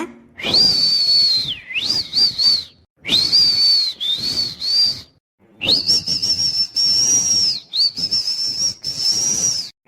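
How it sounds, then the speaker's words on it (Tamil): A person whistles a sustained high tune in several phrases with short breaks, loud and close, with no talking, in a Tamil cartoon scene where a daughter whistles at her mother's command. "உன் அம்மாவின் ஆணைப்படி உடனே விசில் அடிப்பாயாக"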